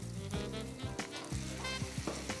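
Tomatoes with cauliflower and peas sauté in a pan, a close, continuous sizzle with rhythmic scraping stirs of a spoon.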